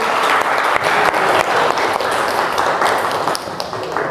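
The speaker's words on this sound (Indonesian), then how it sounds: "Tepuk tangan buat kalian semua anak-anak" Students applauding in a classroom, steady brisk clapping from many hands that stays loud and close throughout.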